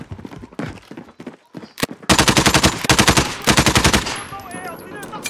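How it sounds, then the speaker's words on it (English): Rapid automatic gunfire from Call of Duty: Modern Warfare, loud close bursts of evenly spaced shots firing for several seconds, preceded by scattered single shots and ending with fainter distant fire and whistling effects. "It was loud shooting. Stop loud shooting."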